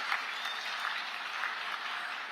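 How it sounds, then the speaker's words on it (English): A conference audience at the closing ceremony of the Amazing Goa Global Business Summit 2024 claps in a soft, distant, steady patter, heard faintly through a hall. "Can we give him a round of applause,"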